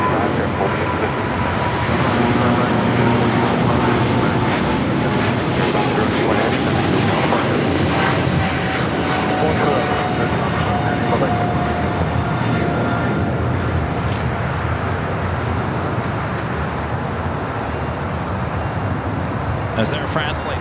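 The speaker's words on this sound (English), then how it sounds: "As Air France Flight 21 heading back to Paris, the 777-300ER." Loud, sustained jet roar from an Air France Boeing 777-300ER departing LAX, with a slowly sliding engine whine over a dense rumble lasting the whole stretch and talk running underneath.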